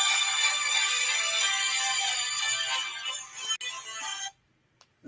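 A phone ringtone plays steadily for about four seconds in a quiet room, a bright melodic electronic tone, then cuts off abruptly as the phone is silenced.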